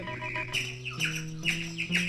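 A bird sound effect on a children's record gives repeated bright squawking chirps in a quick rhythm over sustained musical tones, with no voice.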